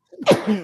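One sharp human sneeze, a brief indrawn breath and then an explosive burst, loud and close in an otherwise quiet moment.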